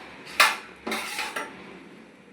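A spoon clinks and scrapes against a pan while oil and chili powder are stirred before eggs go in: three quick metallic knocks, close and moderately loud, with no talk.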